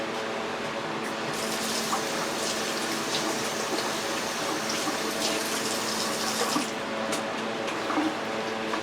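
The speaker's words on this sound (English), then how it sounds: "wash my hands" Tap water runs steadily into a kitchen sink while hands are washed, a loud, close, continuous gushing stream with faint splashes and shifts as hands move under it.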